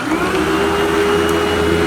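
A Eureka 4870 upright vacuum cleaner runs steadily nearby, a loud, constant motor whine with a rushing airflow hiss and no speech.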